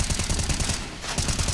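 Pistols fire in a CS:GO match at IEM Katowice 2022, a quick, close run of sharp gunshots in steady rapid succession, loud and without talk.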